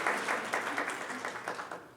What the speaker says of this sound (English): claps for Amy.